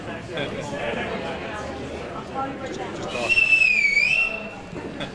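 A single shrill whistle blast with a slight wavering pitch sounds over crowd chatter and a voice speaking.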